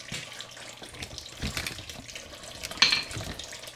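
Water runs steadily from a tap or hose during an engine teardown, a continuous broadband hiss with a brief louder splash near the end, nearby and alone.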